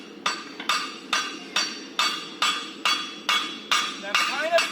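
A hammer forges a hot steel bar on an anvil horn for tongs. About ten evenly spaced, ringing metallic blows fall in a steady rhythm, each with a short decaying ring.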